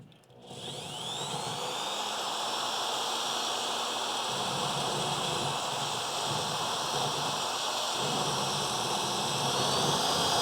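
A drill bit skips and rides around on pitted metal during a Dodge Charger crew cab restoration, kicking in abruptly and then holding a loud, steady whirring hiss to the end.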